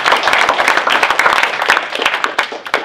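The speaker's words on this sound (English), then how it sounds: "And I think he deserves a round of applause." Panel audience applauding at a talk on Russiagate and WikiLeaks, loud dense clapping with distinct individual claps, holding steady then thinning slightly toward the end.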